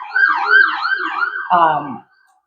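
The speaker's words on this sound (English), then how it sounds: "Sorry, there's an ambulance going by." An ambulance siren passes by outdoors, a loud wailing tone that rises and falls steadily, then shifts to a quicker pulsing yelp before cutting off abruptly, heard alone with no talk over it.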